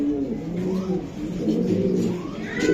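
Racer pigeons from a racing club coo steadily and close by, layered soft calls running throughout with a low background murmur.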